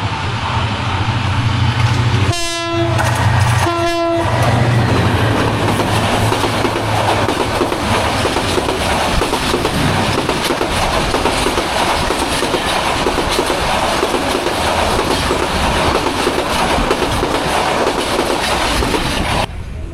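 The Udayan Express passes Montola station at night with a loud, continuous roar of wheels and clattering carriages, while two short horn blasts sound early on and rumbling rail noise fills the rest.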